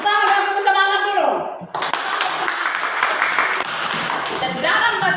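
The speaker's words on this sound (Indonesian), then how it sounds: "Tepuk tangan dulu untuk cinta dulu. Tepuk tangan." An audience claps hands together, a bright, busy patter of many hands that starts after a brief spoken prompt and carries on steadily to the end, with voices mixed in.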